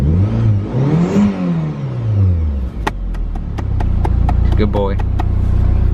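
A Volvo S40 sedan engine cranks, catches and revs up and down in sweeping surges before settling into a steady idle, close by, with someone speaking briefly over it.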